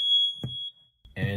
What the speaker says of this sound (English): To test the alarm, press the test button. The alarm will beep once, followed by 4 loud pulses, and then a brief pause.